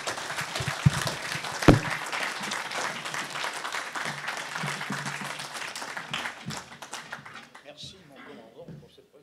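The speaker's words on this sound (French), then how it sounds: "Je vous demande d'applaudir le général Roure." Audience applauding General Henry Roure at a French patriotic gathering, a broad, dense wash of clapping that holds steady and then thins out toward the end, with a sharp knock near the start.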